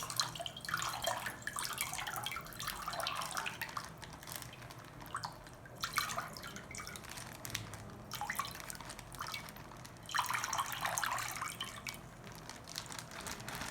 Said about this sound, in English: The water is leaking.